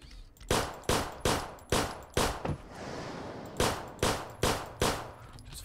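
Loud, close gunfire from the zombie train-survival game Zompiercer: a rapid series of sharp, separate shotgun-like blasts in two bursts, five then four, separated by a brief lull of rumbling noise, with no talking.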